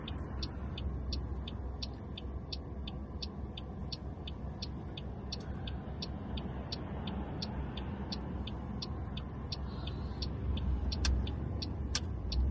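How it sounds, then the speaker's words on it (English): Road traffic rolling past a junction in Blackpool, a broad steady roar of passing cars heard from inside a waiting vehicle, with a regular ticking indicator clicking throughout. "so I just need to wait for the traffic to go past"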